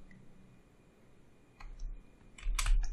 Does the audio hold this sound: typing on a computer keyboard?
yes